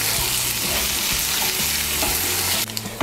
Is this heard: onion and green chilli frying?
yes